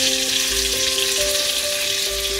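Onion, tomato, garlic and pepper stir frying in a hot pot give a steady, loud, hissing sizzle with no break, over a faint tonal hum.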